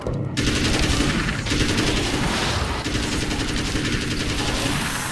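A gun fires in rapid automatic bursts in the video game Alan Wake's American Nightmare, a loud, dense, sustained rattle that fills the whole stretch without pause.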